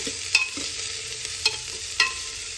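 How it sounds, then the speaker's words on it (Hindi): Chopped vegetables with ginger and garlic for tomato soup sauté in a hot pan under a steady sizzle, with a spatula scraping and tapping the pan a few distinct times, close and loud, no voices. "अब इनको हमें अच्छी तरह से 1 मिनट के लिए भून लेना है।"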